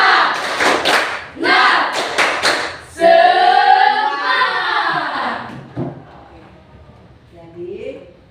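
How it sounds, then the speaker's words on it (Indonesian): Classroom students perform a rhythmic spirit clap, bursts of rapid claps and thumps in patterned groups, followed by children chanting together and a teacher speaking faintly. "Coba tepuk semangat."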